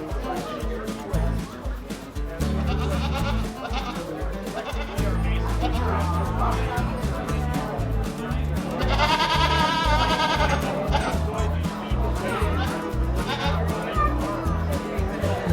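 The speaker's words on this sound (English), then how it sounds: "And this is a pleasant surprise, Angora goats." Angora goats and sheep bleating repeatedly at a wool and fiber festival at a dairy in Yellow Springs, Ohio, loud nearby calls over a busy crowd with people talking throughout.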